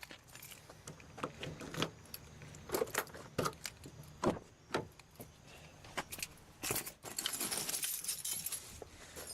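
Keys jangle in bursts of bright metallic clinks, close and clear, rising and falling in a handful of short rattles with a longer shake near the end, no voices.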